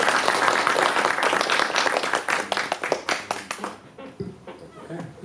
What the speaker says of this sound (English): once again a round of applause for everyone